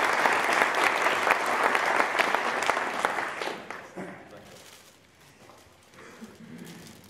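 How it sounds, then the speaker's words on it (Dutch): An audience at a volunteer award ceremony gives sustained, lively applause for about four seconds. It then thins into a few scattered claps and quiet room noise. "Mag ik een hartelijk applaus voor iedereen?"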